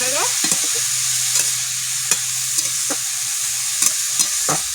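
Kohlrabi and egg frying in a pan under a loud, steady sizzle, with a spatula scraping and tapping in a few distinct strokes up close.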